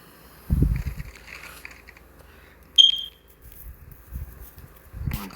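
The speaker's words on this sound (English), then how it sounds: "Whose damn fire alarm's going off?" A smoke detector alarm sounds a single sharp, high electronic chirp in a quiet room, with low thumps and faint movement around it.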